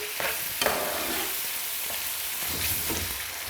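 Spices and tomato being stirred and fried in a pan for an Indian dish, a continuous close sizzle broken by repeated scraping stirs of the spoon against the pan.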